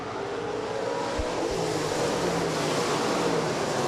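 USRA stock cars at Rapid Speedway roar past in a steady, continuous wash of engine noise as the field comes off turn four, loud and unbroken with no talk.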